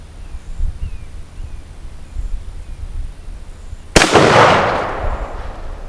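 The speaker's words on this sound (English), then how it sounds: "So I'm gonna grab my SKS, flip our safety off, and take another shot." A single sharp, loud gunshot from a 1953 Tula-built Russian SKS rifle cracks out after several seconds of quiet outdoor ambience, followed by a brief echoing decay.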